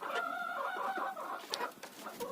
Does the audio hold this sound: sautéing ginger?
no